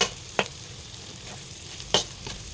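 Sour fermented fish with egg is stir-fried in a pan, a faint low sizzle under a few sharp scraping strokes of the spatula, quiet and close.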